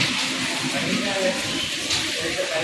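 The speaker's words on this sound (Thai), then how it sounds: "ฝนตกเฉย" Rain falls outdoors as a steady, loud, even hiss that fills the whole stretch without breaks.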